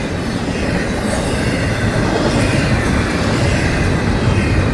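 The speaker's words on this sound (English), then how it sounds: "Yeah, it's a big train." A big train rolls past close by, a loud continuous roar of wheels and cars with faint squealing and clatter, steady throughout.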